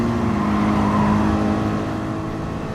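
Race car in Gran Turismo Sport holds a steady, loud engine drone at speed, a continuous high-revving whine throughout with no talking.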